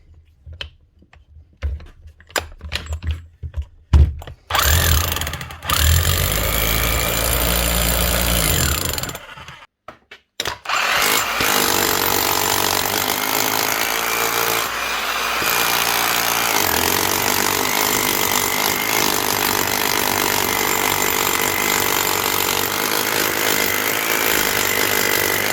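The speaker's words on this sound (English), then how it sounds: "Yep, hammer's working perfect." A Keyang electric hammer, just repaired after a seized motor, runs in loud sustained bursts. A few short stutters come first, then a long, continuous, rattling hammering that dominates the space.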